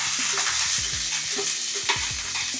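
Onion frying in hot oil in a pan for pinakbet, a continuous close sizzle with quick rhythmic stirring scrapes throughout and no voices.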